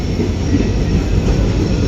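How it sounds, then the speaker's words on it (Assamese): A passenger train rolls steadily past at close range, its wheels giving a dense continuous rumble and faint clickety-clack, loud and unbroken with no voices over it. "9:50 ট্ৰেইন আহিছে এতিয়া উঠি লওঁ ট্ৰেইনত"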